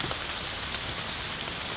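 Steady rain patters on a surface, a dense hiss of drops with occasional sharper taps, close and continuous.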